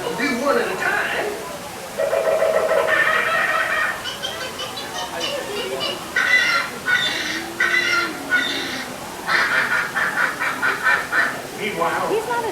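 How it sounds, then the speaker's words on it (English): Squawking and honking birds, a ride sound effect at Disney World's Magic Kingdom, rise in a loud, continuous chaotic burst with voices talking over them. "Suddenly, the treetops explode in a frenzy of outraged birds."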